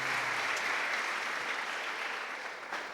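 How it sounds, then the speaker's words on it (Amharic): A church congregation breaks into sustained applause at a deliverance service, a dense wash of clapping that stays steady and loud throughout before easing slightly at the end. "አጨብጭቡላት።"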